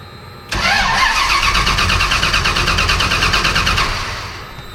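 A car engine with a Holley ECM cranks and catches abruptly, then settles into a loud, steady, close idle with a rapid mechanical pulse, easing slightly toward the end.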